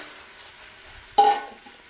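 Half a spoon of cumin seeds drops into melted butter for pav bhaji, giving a sudden close burst of sizzling that flares up loudly and then settles into a fainter crackle.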